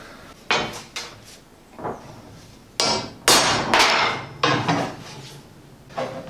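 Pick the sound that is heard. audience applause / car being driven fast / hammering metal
hammering metal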